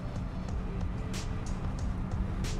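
A 1956 Chrysler Imperial with a 354ci Hemi V8 pulls onto a highway under moderate throttle, giving a steady low engine drone with road noise and occasional faint clicks.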